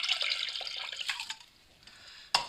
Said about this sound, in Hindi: इसी प्याले के अंदर ठंडा पानी डालेंगे या ठंडा पानी